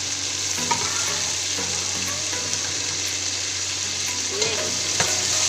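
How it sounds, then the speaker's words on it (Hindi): Boiled mutton frying in a pot for Afghani pulao gives a steady close sizzle with occasional stirring scrapes and clinks, continuous throughout without talk. "अब हम इसमें डालेंगे गोश्त ऐड करेंगे जो कि मैंने बॉईल किया हुआ था।"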